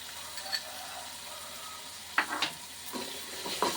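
Boiled rice stir-fried in a pan with garlic chili powder gives a soft, steady sizzle. A few spoon-scraping strokes sound near the end, quiet and close.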